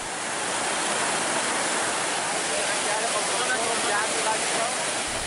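A river in Palopo, South Sulawesi rushes past, a loud, steady broadband roar of swift current that stays close and continuous throughout.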